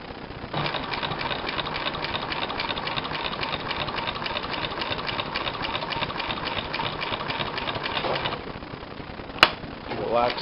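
Consew 226 leather sewing machine driven by a servo motor runs in a steady, continuous mechanical stitching whir for about eight seconds, then stops, followed by a sharp click and brief handling sounds.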